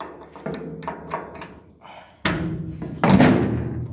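Metal clunks and a door thud come from opening the side door of a Krone KR 125 round baler with a screwdriver, a few light knocks followed by two louder bangs.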